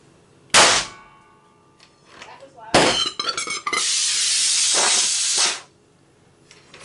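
Prop gas gun firing a propane-oxygen mixture ignited by a piezoelectric spark: a sharp metallic bang, then a second clanging blast running into a long hissing rush of gas, then quiet.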